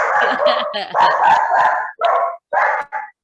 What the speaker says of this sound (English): she was barking to the bird